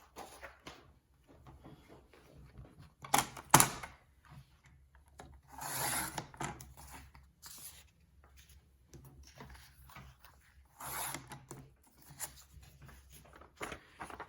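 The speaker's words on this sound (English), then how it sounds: "use my cutter to cut them down. And I'm just going to cut them down both at the same time" A craft paper cutter slices through two book pages at once, making soft scraping, sliding rasps spread across the clip with a sharp snap early on and quiet handling noise between.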